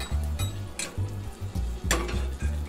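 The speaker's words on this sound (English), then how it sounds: "I'm going to deglaze it with a little bit of red wine. Let that simmer in it for just a second." Garlic in a hot pan sizzles and crackles steadily as red wine is poured in to deglaze it, with a few louder bursts and utensil clinks over a low, pulsing hum.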